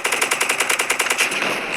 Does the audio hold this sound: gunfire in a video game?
yes